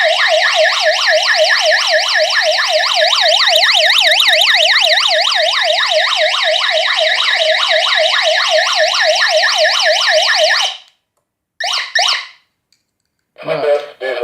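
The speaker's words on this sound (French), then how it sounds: "Et là on est sur la toute petite sirène d'intérieur" A small indoor siren from a GSM alarm system wails loudly and continuously in a rapid rising-and-falling warble, close up, then cuts off and gives a couple of short bursts before a voice speaks.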